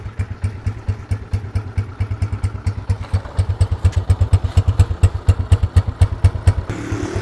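Motorcycle engine cold-starting and idling, either a Honda CG 125 four-stroke or a Yamaha two-stroke, with a loud, rapid, steady thumping exhaust pulse close up, slightly speeding up before a change near the end.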